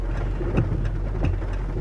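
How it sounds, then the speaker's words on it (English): Steady rain falls outside with a continuous hiss and a few soft impacts, heard up close without talk. "so it's raining."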